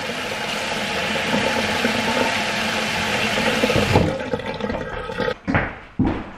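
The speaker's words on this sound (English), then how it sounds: "You want to make sure they get a good rinse of cold water" Cold water runs from a kitchen tap over tomatoes in a steady rushing stream, then cuts out and gives a few short bursts and splashes near the end.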